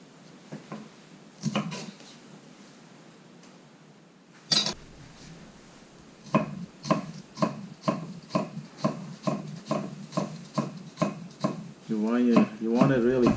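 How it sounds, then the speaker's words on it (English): Knife chopping ingredients finely on a cutting board while cooking a bitter melon stuffed with ground pork soup, a few scattered taps and then a steady run of sharp, close, rhythmic chops. "You want it really finely chopped."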